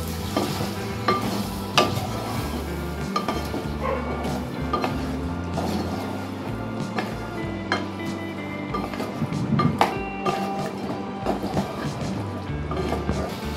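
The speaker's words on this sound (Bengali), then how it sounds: "এরপর আমরা দেবো এর মধ্যে টক দই, দিয়ে আবার ভালো করে কষিয়ে রান্না করে নেব।" Chicken pieces with sour yogurt sauté in a pan for restaurant-style Kashmiri chicken kanti, a spoon scraping and stirring in repeated strokes over a low sizzle, close and steady, with a dog yipping faintly now and then.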